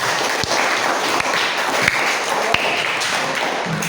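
A classroom of students applauds after presentations, a dense steady patter of clapping with a few sharper taps standing out, continuing throughout.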